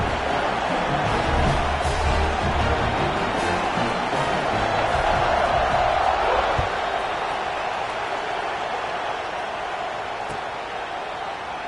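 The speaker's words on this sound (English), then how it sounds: "this crowd now ready to get behind them" A college football video game stadium crowd before a kickoff gives a steady, loud roar of massed voices and cheering that rises a little midway and then holds.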